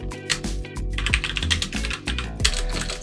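Rapid, uneven typing on a computer keyboard, with close, crisp key clicks in quick bursts and short pauses between them, and no voice heard.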